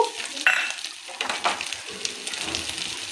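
Chicken fry with chili powder and spices sizzling in a pan, a moderate crackling hiss under a few stirring scrapes and clinks, close by and without speech.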